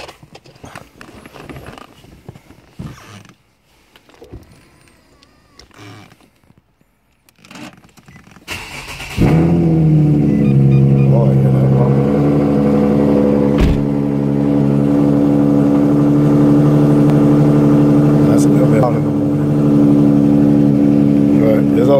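Car fitted with a new Tomei exhaust starts up early in the morning: after quiet moments with faint rustling and a brief voice, the engine catches with a sharp burst and settles into a loud, steady idle that holds close by.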